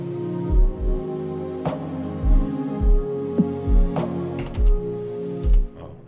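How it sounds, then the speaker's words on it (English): Smooth sine-wave kick drum in an ambient R&B beat made in FL Studio, deep round thumps landing in an irregular pattern with soft clicks and small percussive ticks between hits. "this kick is pretty much just a sine wave, like there's nothing harsh going on at all"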